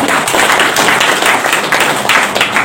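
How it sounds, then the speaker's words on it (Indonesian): Applause from a gathered crowd of farmers and officials at an outdoor community event in North Sumatra, honouring the village head; dense, steady clapping fills the whole stretch, fairly loud and close, with no voices over it. "Tepuk tangan buat Pak Kades."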